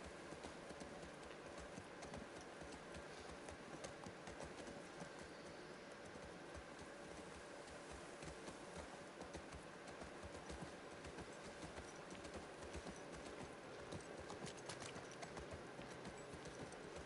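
Horse hooves clip-clopping while riding in The Last of Us Part II, a very faint, steady rhythmic patter of footfalls continuing throughout.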